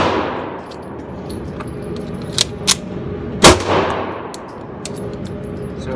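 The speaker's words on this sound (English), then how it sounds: "one drill, where we're gonna fire one round" A single sharp gunshot from a Dan Wesson Valkyrie Commander pistol during a one-round function drill, loud and close, preceded by a couple of faint metallic clicks and followed by a brief decaying echo.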